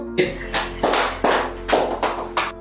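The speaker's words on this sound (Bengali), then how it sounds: "সবাই ওর জন্য একটু হাতে তালি দাও তো।" Office staff clap their hands in several short, uneven bursts, fairly close, over a low steady hum and faint tonal background.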